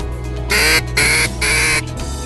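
A loud duck call blown in three drawn-out, nasal honks, imitating a mallard's hail, close and insistent.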